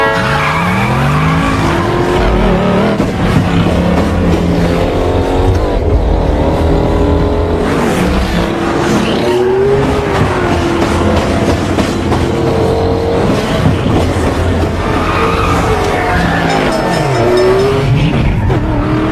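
Classic cars race from the start line in a loud, continuous clamour of revving engines and squealing, skidding tyres, with a train horn serving as the start signal.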